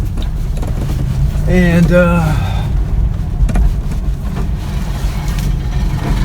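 A 1985 Toyota pickup rumbles along on a test drive, its engine drone steady and close beneath someone talking briefly.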